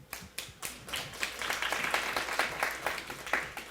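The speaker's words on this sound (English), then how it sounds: "Please give him a round of applause," Audience clapping at a national student heritage interpretation contest as a volunteer comes to the stage, beginning with a few separate claps that swell into steady, fairly light applause from a modest crowd.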